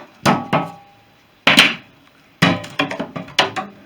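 Clamps being knocked off the tank bay of a Fisher Youngster Wings model: several sharp knocks and taps in separate bursts, close by and fairly loud, with no talk.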